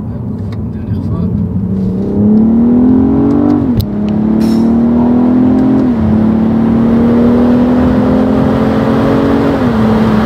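A BMW M440i engine heard from inside the car: a loud, close drone whose pitch climbs steadily and then shifts abruptly between gears several times, continuous throughout.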